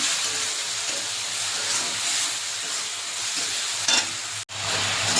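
Fried onion sizzles in a pan as ginger, garlic and green chili paste cooks for a chicken dish, a steady close hiss with stirring, a brief louder flare and a sudden sharp drop near the end.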